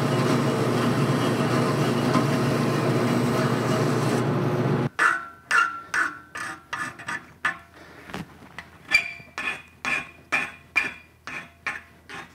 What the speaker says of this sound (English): we'll take the bandsaw and we'll cut it off